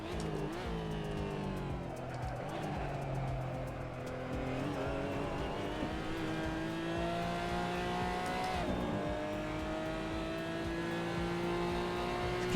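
A race car engine in the racing game Assetto Corsa drones and revs continuously, rising and falling in pitch through gear changes, loud and steady throughout.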